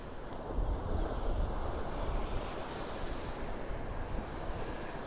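Steady wind rumbles across a beach in North Naples, Florida, on a morning walk. A broad, dense, continuous roar buffets the microphone close up, with the wash of surf mixed in and no voices.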